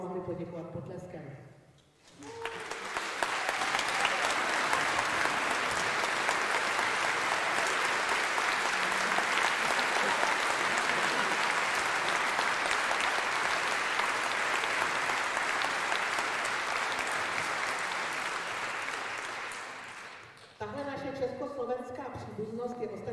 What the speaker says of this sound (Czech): Prosím, povstaňte, abychom vám mohli poděkovat potleskem.